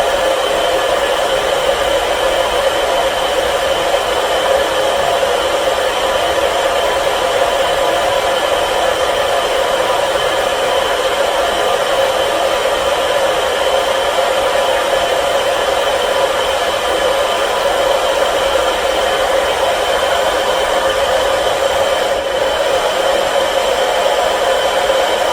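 A blow dryer runs steadily on hair for the whole stretch, a loud, close, unbroken whoosh of airflow with no talk over it.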